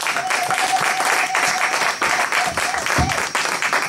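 A church congregation claps and applauds together in a dense, steady wash of hand claps that fills the room for a few seconds, with voices faintly mixed in.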